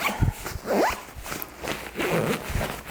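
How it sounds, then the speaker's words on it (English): A compression zipper on carry-on luggage is pulled in several short, rasping strokes with brief pauses between them, close by with some rustling. "when you use the compression zipper, this is what happens"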